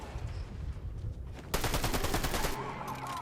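Rapid bursts of gunfire in a Fortnite match at a competitive FNCS finals, sporadic shots at first, then a loud sustained volley of dense repeated shots midway that tails off into quieter rumble.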